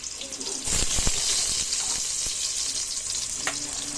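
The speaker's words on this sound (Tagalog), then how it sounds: "mainit na yung aking kaldero. Ilagay ko na guys yung aking bawang" Garlic frying in a hot cooking pot while preparing mussels in coconut milk, a steady bright sizzle running throughout with a few stirring clatters near the start.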